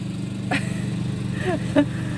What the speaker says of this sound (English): That's my husband. He's like mowing the lawn.